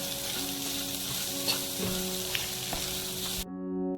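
Onion, capsicum and tomato sauté with spices and salt in a pan for vermicelli upma, a steady close sizzle with light stirring, then a sudden quiet near the end.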